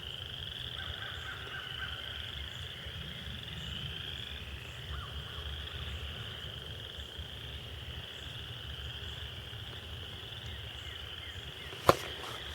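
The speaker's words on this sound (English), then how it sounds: "Anyway, frogs. I was trying to get closer to hear them and record more." Frogs croak in the woods near gullies, a dense continuous chorus heard at moderate distance against the night air, with a single sharp knock near the end.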